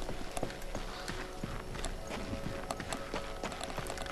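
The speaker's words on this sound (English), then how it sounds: "This is no place for a horse." Horse hooves clip-clop in the video game Darksiders 2, a quick steady run of close hoofbeats over ambient game sound.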